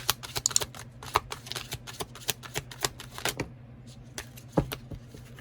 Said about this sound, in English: we're going to pull some Romance Angel Oracle cards